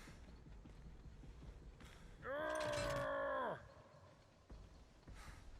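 In the video game Dead by Daylight, an exit door mechanism opens with a loud grinding, buzzing tone lasting about a second, set among quieter clanks and thuds.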